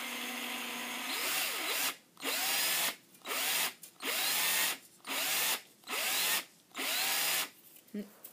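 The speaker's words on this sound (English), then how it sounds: "You see how the rings are starting to form on the drill?" A power drill whirs in repeated bursts of about a second each, stopping and starting as it winds wire around a dowel rod to form chainmail rings, loud and close with brief gaps of quiet.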